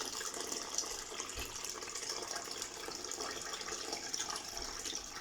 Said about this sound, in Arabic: هسه راح ابدي اضيف المي مرة ثانية.